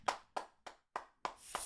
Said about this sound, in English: Random applause.